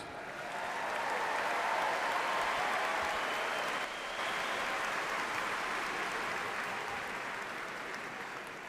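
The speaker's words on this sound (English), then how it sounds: "Please join me in extending another round of applause for our doctoral graduates." Sustained applause for doctoral graduates at a spring graduation ceremony, a large crowd clapping steadily for several seconds with a slight dip midway before fading a little toward the end.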